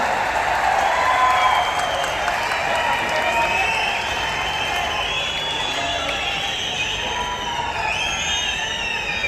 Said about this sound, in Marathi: एकदा जोरदार टाळी झाली पाहिजे त्यांच्यासाठी